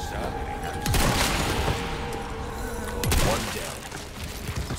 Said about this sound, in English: there are more shooting at me